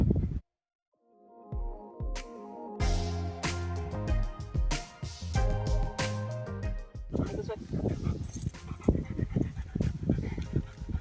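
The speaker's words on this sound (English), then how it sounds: "as you can see, he is a big dog" A big dog pants and whimpers close by, with breathy bursts and whiny cries mixed among other tonal background sounds through most of the stretch.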